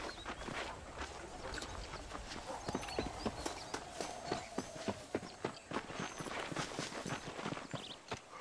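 Horse hooves clip-clop steadily at a walking pace in the Western video game Red Dead Redemption, a continuous rhythmic clatter over wind and ambient outdoor noise, moderately loud with no speech.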